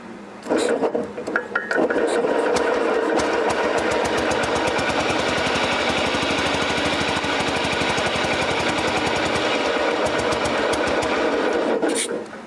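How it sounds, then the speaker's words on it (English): A long-dormant old BMW Isetta's small engine turning over: a loud, rapid, steady mechanical chugging that runs on without stopping for about ten seconds, close up, with brief clatter at the start and end. "Try it again. Maybe it'll crank a little easier."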